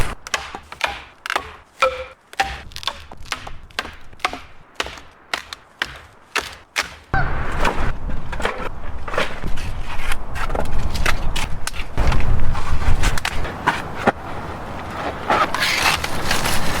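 Firewood snaps and cracks as it is broken by levering it between two close-set trees at a spring campsite by a beaver pond, a series of sharp close knocks followed by a louder stretch of rustling, creaking wood and wind.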